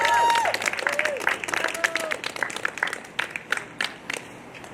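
A crowd at a Barrie community rally and march for homelessness claps in a dense burst that thins into scattered individual claps and fades, with a short vocal tone early on.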